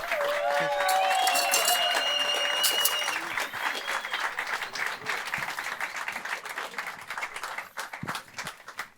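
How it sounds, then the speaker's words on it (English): An audience at a bartending competition, the BACARDÍ Legacy semi-finals, breaks into loud applause that tapers gradually, with scattered claps continuing as music tones ring out early on and voices murmur underneath. "applause, please."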